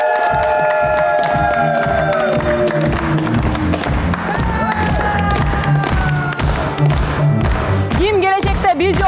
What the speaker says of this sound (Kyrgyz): Анда сиздердин кол чабыңыздар менен Уланычбек менен Рабия жананын үй бүлөсүн тоса